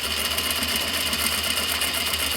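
A sewing machine runs continuously as it stitches a seam on a recycled denim pouch, a close, loud, steady mechanical whir with rapid even needle rhythm and no pauses or speech.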